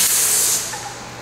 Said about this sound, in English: Okay, we'll test spray now at the minimum pressure.